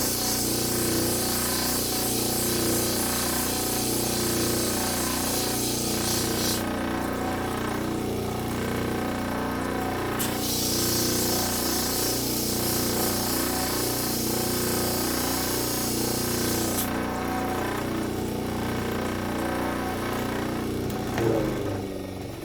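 A cabochon stone is ground flat on a 220 grit lapidary wheel, giving a steady, unbroken whirring hiss that runs the whole time without talk. The upper tones briefly drop away twice.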